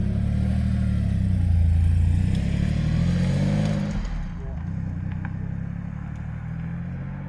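A Porsche 959 engine drives on the road, a loud low growl that rises under acceleration, then drops back to a quieter steady cruise, with a voice speaking over it.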